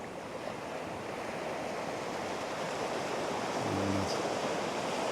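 Ocean waves wash onto a shore at dawn, with a steady broadband roar of surf and a slight swell toward the end, and no voices.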